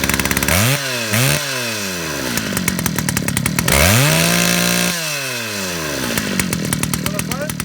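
A chainsaw revs repeatedly and cuts into a big log, its engine rising and falling in loud, close bursts with a sustained high whine during the cut.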